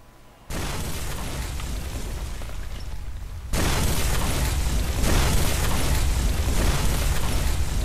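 A sudden loud grenade blast in the game Garena Free Fire kicks in after a brief quiet, then a second, heavier boom follows, leaving a sustained roaring rumble.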